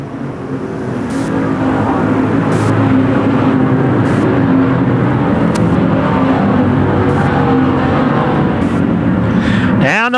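Dirt-track race cars, ModLite and Pure Stock classes at Desert Thunder, roar in a close four-car battle for the lead, a steady loud engine drone with passing surges, under constant commentary.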